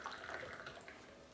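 A small amount of water poured indoors in a Swedish house kitchen, a soft, faint continuous trickle lasting over a second with no voices.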